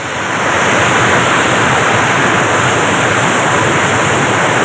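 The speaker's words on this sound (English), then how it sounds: "We have stopped at Clearwater Falls." Clearwater Falls in Oregon pours in a steady, loud, unbroken rush of falling water, close by and constant, with no voices over it.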